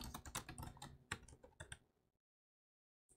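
Rapid typing on a Pinebook Pro laptop keyboard while entering a password, a quick burst of close, crisp key clicks for about two seconds, then silence with one final tap.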